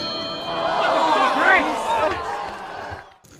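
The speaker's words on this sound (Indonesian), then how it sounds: "bel berbunyi petanda ronde pertama habis" A fight bell rings to end the first round, a bright ringing tone with shimmering overtones over a noisy crowd that fades just before the end.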